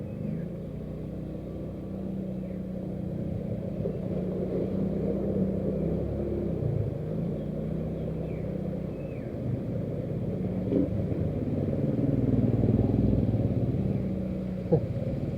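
A motorcycle pushes through deep floodwater on a mountain road with a steady low engine rumble and churning water that build slightly louder toward the end, heard alone without talk.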